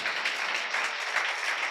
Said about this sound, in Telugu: చప్పట్లు కొట్టి గట్టిగా చెప్పండి